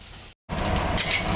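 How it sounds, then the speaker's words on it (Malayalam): Onions sautéing in a large pan, a steady bright sizzle that drops out for a split second and then returns close and loud, with no talking. "ആ ഉള്ളി വാട്ടുന്നുണ്ട്"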